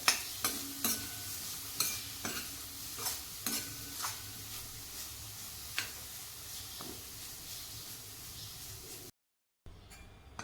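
Grated fresh coconut roasting in ghee over a low flame for ukadiche modak, with a quiet sizzle and repeated scraping, tapping stirs of a spoon against the pan, then a brief silence.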